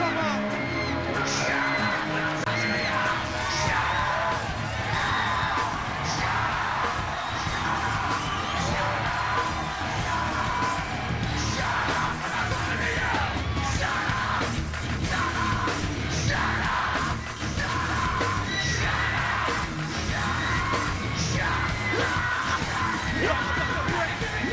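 Rock concert crowd at a show at the Rock and Roll Hall of Fame in Cleveland, Ohio, yelling and singing along loudly and continuously over the band, with cheers and whoops throughout.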